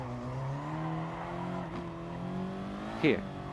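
A front-wheel-drive car's engine hums steadily through a corner and then rises in pitch as it pulls away at half throttle, with a brief squeal near the end and someone talking over it.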